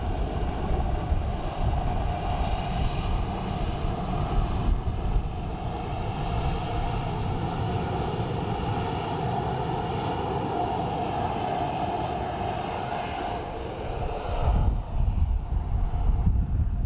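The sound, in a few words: Swiss Air airplane engine approaching Dublin Airport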